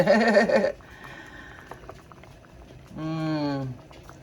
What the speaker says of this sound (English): See, it's just bubbling away.